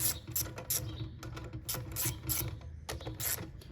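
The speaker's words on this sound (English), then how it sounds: "You're going to unscrew these 3 bolts." A ratchet wrench unscrews the bolts on the air filter base of a surging Honda small engine, giving bursts of quick, close mechanical clicking in a steady rhythm with no talk.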